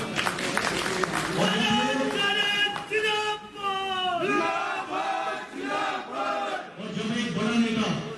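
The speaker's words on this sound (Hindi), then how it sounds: "एक बार के लिए जोरदार तालियां।" A crowd claps and cheers loudly at a welcome event for a health minister. Chanting voices rise over the applause in steady, rhythmic waves.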